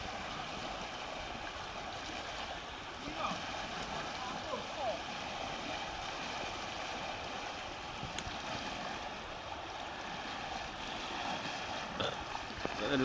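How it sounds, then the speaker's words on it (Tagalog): A strong river current rushes in a dense, steady roar close by, with faint voices partly audible beneath the water noise. "Malakas po ang agos!"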